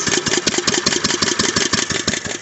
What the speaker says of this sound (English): So that is where it runs on its low idle.